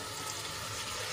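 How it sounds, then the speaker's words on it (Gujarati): A glass of water poured into cooking vegetable gravy in a pan, a continuous rushing, splashing pour that stays even and close for the whole short stretch. "અહીંયા આપણે 1 ગ્લાસ જેટલું પાણી એડ કરીશું"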